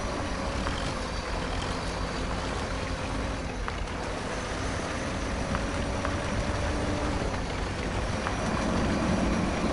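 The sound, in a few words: tractor engine in Spintires MudRunner video game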